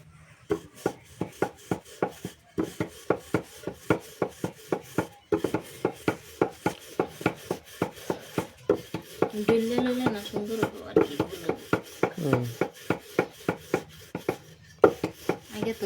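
Roti dough being rolled out by hand for flatbread, with a steady run of sharp knocks and taps from the rolling pin against the board, repeated all the way through, and a voice talking briefly in the middle.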